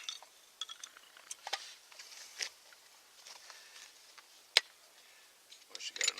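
Small metal tin with a striker and flint inside being handled, producing light clinks, taps and rattles scattered over a few seconds, fairly close and quiet, with a voice speaking at times.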